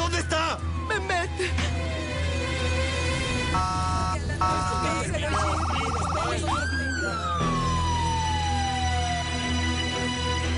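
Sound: ambulance siren

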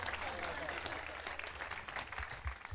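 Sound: concert audience applause

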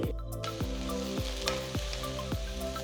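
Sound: onion and broccoli pieces stir frying in a pan

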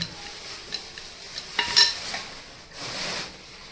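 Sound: cholafali dough strips frying in oil

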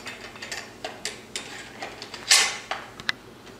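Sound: locking bolt back and sliding barrel onto gun

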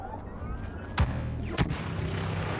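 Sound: thermal detonator explosion in video game Star Wars Battlefront

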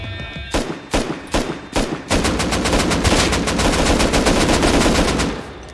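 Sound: gunfire in the video game Rust

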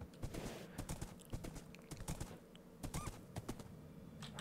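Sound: horse hooves clip-clopping in the video game Minecraft

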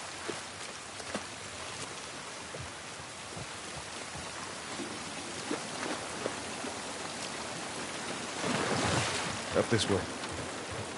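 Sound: rain in The Last of Us video game

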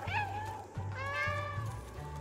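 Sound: cat meowing in the video game Stray

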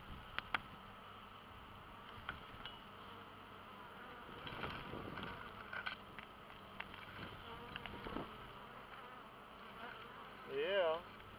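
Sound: honey bees buzzing at hive entrance

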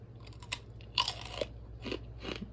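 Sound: crunchy cheese-puff snack being bitten and chewed

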